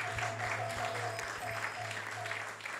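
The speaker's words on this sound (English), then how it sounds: "let's express a big round of applause for them and thank them" People in a temple hall clap for the technical team, a faint, quiet patter of scattered clapping over a low steady hum.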